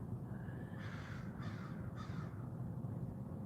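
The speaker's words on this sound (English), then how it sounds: "cawing." Crow cawing outdoors in a quiet setting, two or three harsh caws in a row over a steady low hum, moderately distant.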